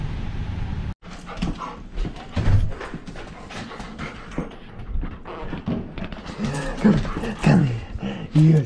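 A puppy whimpers and gives soft yips and pants up close, the cries rising and falling over about nine seconds amid steady indoor background noise.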